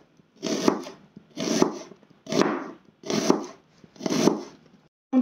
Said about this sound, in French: Des oignons en fines lamelles.